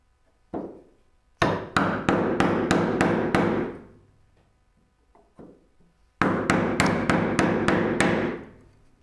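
Hammer blows while building a Moxon vise in a woodworking shop, loud sharp strikes in two quick bursts of about half a dozen evenly spaced hits, with a single lone knock before each burst.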